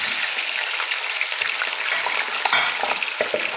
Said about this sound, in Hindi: चिकन फ्राई हो रहा है